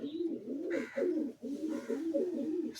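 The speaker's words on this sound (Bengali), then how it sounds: "সব চ্যাম্পিয়ন পায়রা," Champion racing pigeons in a breeding loft coo in repeated soft, throaty phrases, close and steady, with faint shuffling behind them and no talk.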